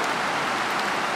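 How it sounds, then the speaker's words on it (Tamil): Heavy rain pours steadily and close by, a dense, even hiss of drops striking surfaces that continues without a break and with no talking over it. "செம்ம மழை பெய்யுது."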